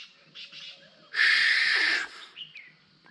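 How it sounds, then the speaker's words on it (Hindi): A wild tithru bird in the hill farm fields of the Kedarnath region gives one loud, strident call lasting almost a second, with fainter chirps before and after against a quiet background. "ये जो आवाज़ है ना, ये एक पक्षी है, इसका नाम तिथरू है।"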